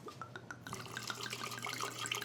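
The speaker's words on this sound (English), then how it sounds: "Then I'm going to pour wine in here." Wine is poured into a bowl with sugar, a gurgling, splashing stream that starts after a brief pause and runs continuously, with bright trickling close to the microphone over a low background hum.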